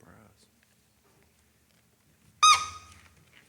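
A rubber ducky dog toy gives one sharp, loud, high-pitched squeak that trails off, heard once in an otherwise quiet meeting room after a brief murmur of voices.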